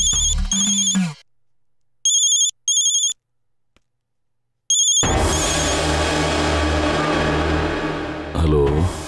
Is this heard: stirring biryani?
no